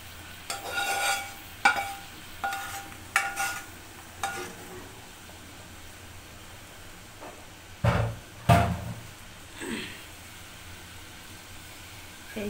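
Barbecued boneless chicken pieces are stirred into chicken biryani in a cooking pot, giving a run of scraping, clattering stirs in uneven bursts. Two heavier clanks land near the end over a quiet background.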